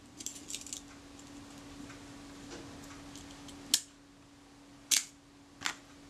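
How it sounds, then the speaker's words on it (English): A Bessamatic leaf shutter fired several times on a workbench after repair, giving a few soft mechanical clicks followed by three sharp, crisp snaps spaced about a second apart against quiet room hum. "that shutter is now ready to go back into the camera body"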